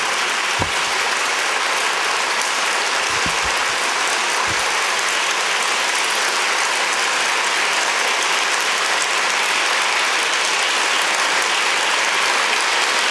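Conference audience applause, a dense, steady wash of many hands clapping that stays loud throughout, with a few low thumps early on.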